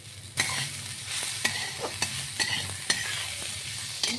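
Potato, pointed gourd and bitter gourd pieces frying in oil with a pinch of salt, a continuous close sizzle punctuated by regular stirring clacks from a utensil.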